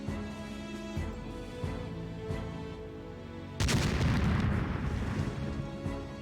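An explosion in the World War II tactical game Silent Storm: after several soft thuds over a droning background, a sudden loud, broadband blast erupts and rumbles on for a couple of seconds.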